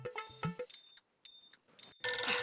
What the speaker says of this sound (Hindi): क्यों बार बार मिस कॉल दे रहे हो?